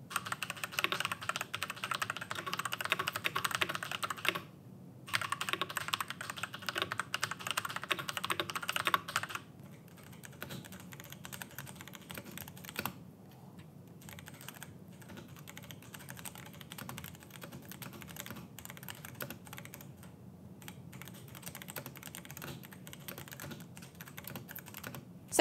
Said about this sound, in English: On the black keyboard here, we have the Gateron Baby Kangeroo switches, which are another unusual switch, and these ones are tactile and they also sound fantastic.